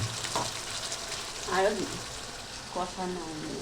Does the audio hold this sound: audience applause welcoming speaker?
no